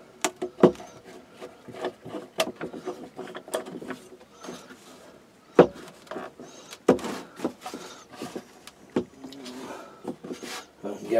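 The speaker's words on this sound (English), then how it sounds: "Getting the clamp off." Wooden clamp knocked and worked loose from a freshly glued scrap-wood box, with sharp wooden taps and rubbing scrapes in an irregular rhythm, close by.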